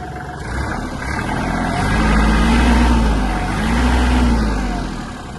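The diesel engine of a Japanese Kubota GL-260 mini tractor chugs steadily at idle, its low rhythmic rumble swelling slightly twice as the revs rise and settle.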